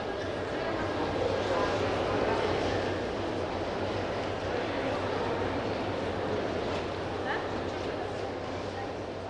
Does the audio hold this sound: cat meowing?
no